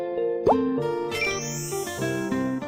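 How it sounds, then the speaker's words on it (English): A cartoonish plop marks a hen laying an egg in the Baby Panda farm video game, a short bright pop early on with a rising chirp at the end, set over steady tonal game music. "The hen is about to lay an egg."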